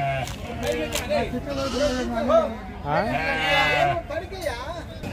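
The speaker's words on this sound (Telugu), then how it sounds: "గొర్రెలు అయితే చాలా బాగానే ఉన్నాయి" Several sheep bleat loudly and repeatedly at close range at the Gudur sheep market, their wavering cries overlapping, with people talking in the background.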